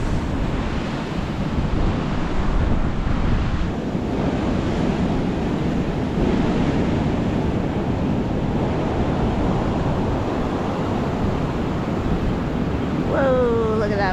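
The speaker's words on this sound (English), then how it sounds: "Whoa, look at that wave." Ocean surf rolling and breaking at Hot Water Beach on New Zealand's Coromandel Peninsula, a constant loud roar of waves mixed with heavy wind buffeting the microphone, with a brief faint bird-like call near the end.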